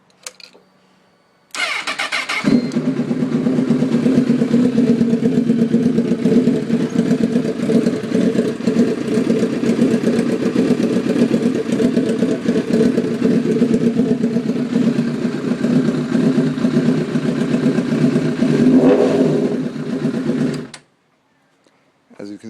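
A Honda CBR motorcycle engine, newly restarted after a fuel filter clog, runs steadily at close range for about eighteen seconds. It idles loudly with rough, pulsing revs and a brief rise in pitch near the end before cutting out.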